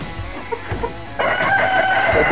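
A Kelso gamefowl rooster, a Lemon x red Kelso cross, crows in a backyard breeding pen, preceded by a few soft clucks, then a loud drawn-out crow close by over low ambient noise.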